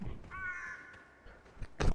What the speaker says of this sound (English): Goddamn crow scared the crappers out of me.